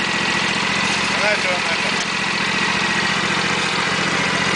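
A Husqvarna CTH 224T garden tractor engine idles with a steady, even low rumble throughout, while someone talks over it.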